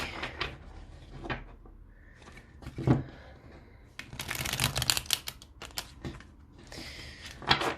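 Tarot cards are shuffled and riffled in quick bursts, with soft handling taps and rustles between them, close and fairly quiet.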